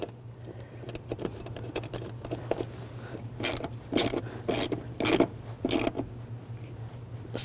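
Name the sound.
tightening a bolt on a Subaru Forester wheel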